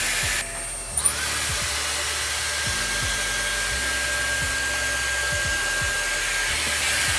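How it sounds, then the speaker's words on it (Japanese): A straightening hair dryer blows with a loud, steady whooshing roar that runs continuously after a brief start, close to the microphone, with no talking. "ストレートドライヤー使っていきます。"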